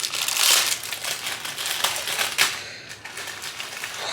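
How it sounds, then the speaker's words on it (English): Scissors snipping through hair during a DIY shag haircut: close, crisp crunching cuts that come steadily for a few seconds, with no talking. "Okay, we're gonna snip that."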